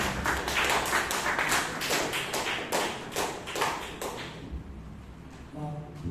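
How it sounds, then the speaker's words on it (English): An audience at a Toastmasters club meeting in Bangalore gives a big round of applause: dense, steady clapping for about four seconds that then thins and fades, with a voice briefly starting up at the end. "Give a big round of applause."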